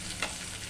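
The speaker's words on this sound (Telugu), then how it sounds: "పచ్చిమిర్చి, క్యారెట్స్ అన్నీ వేసి ఫ్రై చేసుకొని" Green chillies and carrots fry in a pan with a steady, hissing sizzle, close and moderately quiet, with one brief stirring scrape partway through.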